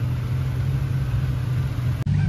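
A car engine idling steadily after a faulty crank position sensor was replaced, a close, even low rumble with a smooth, constant hum and a very brief dropout near the end, with no talking.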